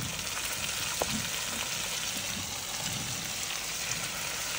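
Hilsa fish frying in oil in a pan just after being flipped, with a steady, dense hiss and crackle that stays even and close throughout and no voices.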